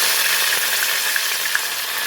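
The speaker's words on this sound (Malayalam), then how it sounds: "കടുക് ഇങ്ങനെ ഇനി ചീറ്റിക്കൊണ്ടിരിക്കുന്ന കടുകും ഉണ്ട്." Mustard seeds and curry leaves sputtering in hot oil on a gas stove, a dense continuous sizzle with small pops scattered throughout, close and fairly loud.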